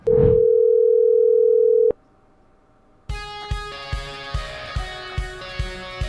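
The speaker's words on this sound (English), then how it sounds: "Dialing these numbers into the emulator and calling the number for the first time yielded this audio." Telephone audio in an emulator after dialing a number: a long steady dial-type tone cuts off, a short near-silent pause follows, then a distorted synthetic musical loop with regular rhythmic pulses, loud and alone.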